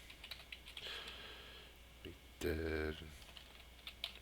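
Faint computer keyboard typing, scattered light key taps in short bursts, with a louder cluster midway while someone speaks briefly over it.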